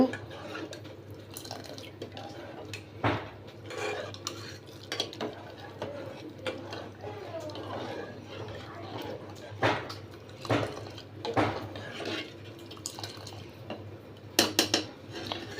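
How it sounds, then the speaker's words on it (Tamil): Spoon clinks and scrapes against a pot while milk is stirred into sago payasam, irregular knocks over a faint steady hum, close by and fairly quiet. "பாலை சேர்த்துட்டு அப்படியே கலந்து விட்டுக்கோங்க."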